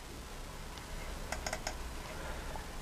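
Computer mouse clicks on a laptop come as a quick cluster of soft, close clicks in a quiet room with faint background hiss.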